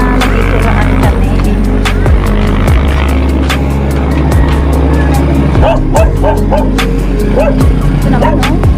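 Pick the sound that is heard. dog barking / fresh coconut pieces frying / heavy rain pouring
dog barking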